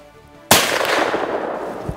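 A single sharp rifle shot rings out during a deer hunt, a sudden loud crack after a quiet lead-in that decays into a rolling echo across the woods.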